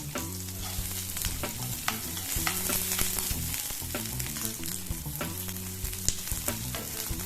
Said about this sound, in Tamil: அதை கொஞ்சம் நேரம் வதக்கிக்கலாம்.